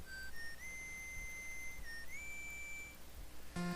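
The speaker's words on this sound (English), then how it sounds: "You get to hear Proto Man's iconic whistle before he teleports into a stage" Proto Man's signature whistle from the Mega Man 9 video game: a short synthesized melody of clean, sustained notes, ending in a sudden buzzy burst as the character teleports in.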